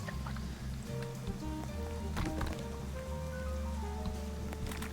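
Rain falling in the Duck Detective video game, a steady soft patter that runs throughout beneath gentle tonal music, at fairly low volume.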